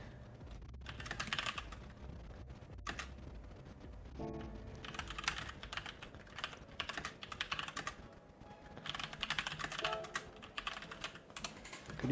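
Aggressive typing on a computer keyboard, with rapid bursts of hard clattering keystrokes separated by brief pauses, fairly close but moderately quiet, no voices.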